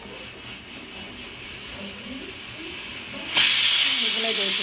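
A pressure cooker on a medium flame hisses steadily, then a louder steam whistle bursts out near the end and keeps blowing; no talk is heard.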